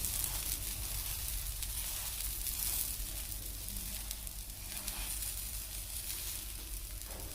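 A green moong sponge dosa sizzles steadily on a hot pan while being roasted, a continuous soft hiss and crackle of frying heard close and alone.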